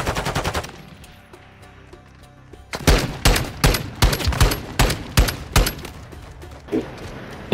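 Rapid gunfire bursts in Call of Duty Modern Warfare 2 ranked play. Loud, evenly spaced volleys start about a third of the way in and repeat rhythmically to the end, after quieter clattering action.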